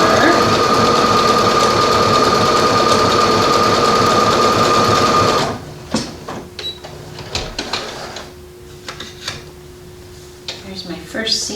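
A sewing machine runs a stretch stitch seam in a steady, loud, continuous whirring for about five seconds, then stops and leaves quiet handling clicks and a faint hum.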